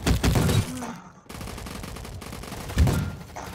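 Shotgun fire in a Roblox gunfight, a dense burst of blasts at the start and another near the end, with a short gap and a steady rumble of game noise between.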